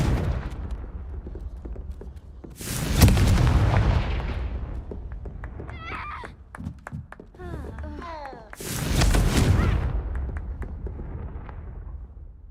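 Confringo fire spell explosions in the Hogwarts Legacy video game: two loud, broad booming blasts about six seconds apart, each with a long rumbling tail, over busy game sounds and scattered clatter between them.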